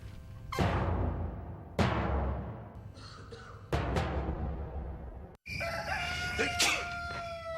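Rooster crowing in a NyQuil television commercial: several loud, close crows in a row, each a sharp rising call fading out, followed by a short burst of other sounds.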